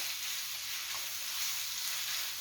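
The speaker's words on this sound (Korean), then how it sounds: "물기가 거의 없을 때까지 볶아주세요." Squid and fish cake side dish stir-frying in a pan, giving a steady, close sizzle with a hiss that runs through the whole stretch and no talking.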